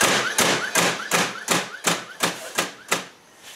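DEWALT DCN660 20V brushless 16-gauge angled finish nailer firing in bump mode: nine sharp, close shots in a steady rapid rhythm, each a crisp snap with a thud, over about three seconds.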